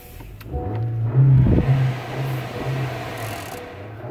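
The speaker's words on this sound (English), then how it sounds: "Let's get it turned on. We've got a push button start." A Honda car starts by push button, and its engine catches and settles into a steady low hum with a brief louder swell, close up.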